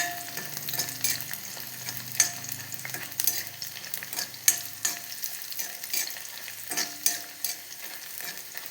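Onions sauté in a pan for a chili chutney, a soft, even sizzle broken by frequent sharp spatula scrapes and taps, close but fairly quiet, no voices.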